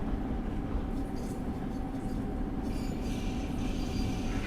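Long Island Rail Road M9 commuter train in Train Sim World 4, a steady loud rolling rumble and drone with a faint electric whine running throughout.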